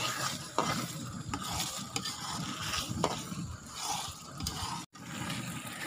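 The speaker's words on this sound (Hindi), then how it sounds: "अंडे डालने के बाद मुसलसल चलाते रहना, अच्छी तरह मिक्स हो जाए।" Eggs being stirred into dal in a cooking pot, with steady spoon scraping and stirring over a soft sizzle, close and fairly quiet, and no voices.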